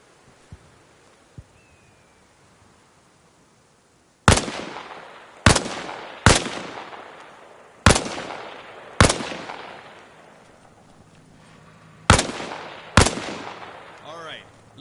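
Rifle fire from behind a wall in Arma Reforger: after a quiet stretch, seven sharp, loud single shots crack at uneven intervals, each trailing a ringing echo that decays before the next.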